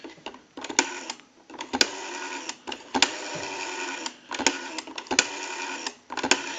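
The rotary dial of an Automatic Electric desk telephone, freshly oiled, cleaned and adjusted, whirs and clicks as it spins back, in repeated bursts of rapid ticking separated by short pauses.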